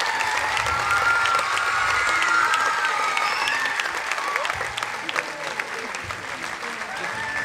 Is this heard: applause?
yes